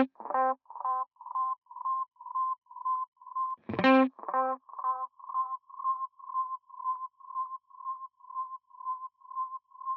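Guitar through a bubble echo delay effect set with speed and depth at zero: short plucked notes followed by a long train of evenly spaced, steadily fading delayed repeats, with one louder strum midway restarting the echo tail, no voices.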